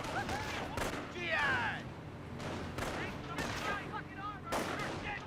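Rifles and a machine gun fire in a Company of Heroes battle, with repeated bursts and single cracks scattered across the clip and whistling, sweeping effects between them, under a busy mix of game sounds.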